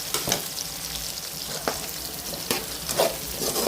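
Garlic, ginger and whole spices such as cinnamon, cardamom, cloves and fennel sizzle in a pan for chicken gravy, with a steady frying hiss broken by the periodic scrape of stirring.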